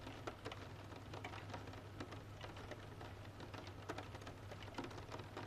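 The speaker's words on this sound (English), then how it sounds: "rain hums against the glass" Rain hums steadily against window glass beside a napping old man, a soft continuous wash of patter with scattered sharper drops tapping throughout, faint and even with no voices.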